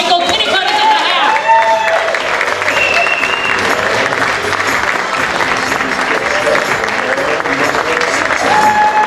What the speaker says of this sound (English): a nice big round of applause for the comedy of Michael Kinnicutt